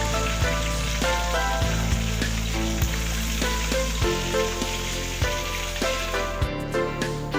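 Chicken legs frying in a pan of oil, a steady dense sizzle and crackle running throughout with occasional louder pops and spatters, close and alone without talk.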